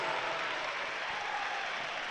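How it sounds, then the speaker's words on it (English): A basketball crowd at an Oklahoma State vs Kansas State women's game reacts to a foul call with a sustained broad roar of boos and noise, steady and fairly loud, with no clear talk. "And the crowd does not like that one"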